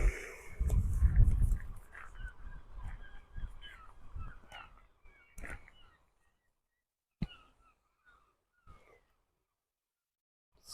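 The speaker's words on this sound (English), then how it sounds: "seagulls are very noisy here." Seagulls call around the fishing harbour at Arbroath, harsh squawks clustering loudly at first, then scattered, fainter cries spaced out against a quiet background.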